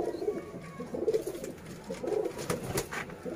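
Golden pigeons coo steadily in soft, throaty bursts repeated across a few seconds, heard close and alone, with some faint background clatter.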